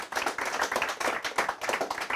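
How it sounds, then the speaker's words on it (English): A live audience gives a round of applause for a performer at the end of a music session, dense steady clapping from many hands continuing throughout, close and fairly loud. "I think he deserves a round of applause."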